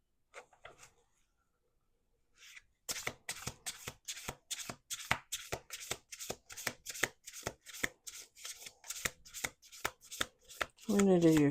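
Cards are shuffled in a fast, steady run of crisp snaps after a quiet start, close and clear, with a brief voice-like sound at the end.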